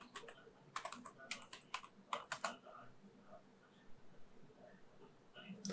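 Quick clusters of computer keyboard keystrokes tap out a password at a login screen, close and crisp, in bursts separated by pauses, with some quiet talk in the background.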